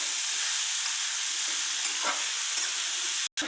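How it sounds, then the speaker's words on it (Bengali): Taro stolons (loti) frying in hot oil in a pan, giving a steady close sizzle with faint stirring, uninterrupted apart from a brief drop near the end. "এই এখন লতিটা দিয়ে আমি ভেজে"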